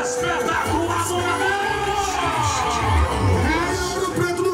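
A rodeo crowd in the stands makes a busy roar of cheering and whoops that stays loud throughout, mixed with a lot of excited chatter.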